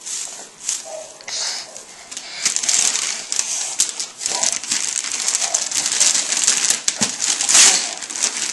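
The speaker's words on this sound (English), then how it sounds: "He knows how to unwrap paper." Wrapping paper tearing and crinkling as a child pulls it off a Christmas gift, a continuous run of papery rips and crumples up close with brief faint voices in the background.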